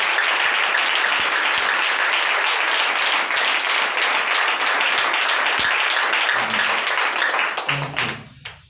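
Steady applause fills a church sanctuary during a Sunday special prayer meeting, many hands clapping in a dense continuous wash that fades out near the end.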